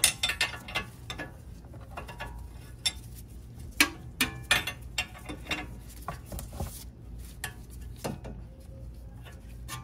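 A wrench works a nut off the lower control arm of a BMW 5 Series E39, giving irregular close metallic clicks, ratcheting and clanks with quiet gaps between bursts.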